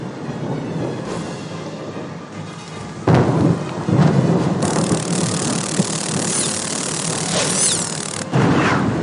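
A heavy thunderstorm with rain in the Harry Potter and the Prisoner of Azkaban video game: loud, steady downpour with sudden booming thunder cracks and rolling rumbles.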